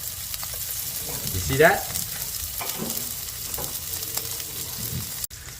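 Shell-on shrimp frying over high heat in a hot pan, a steady close sizzle with a brief louder burst of spitting as they are stirred, and a short spoken remark over the cooking.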